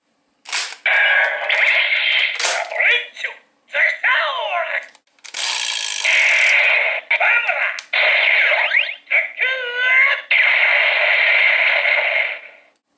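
The Kyoryuger Gaburevolver toy gun, loaded with the No. 4 Zakutor Zyudenchi battery, gives a loud run of electronic effects, a synthesized voice and sung jingles, broken by short clicks and pauses, heard close.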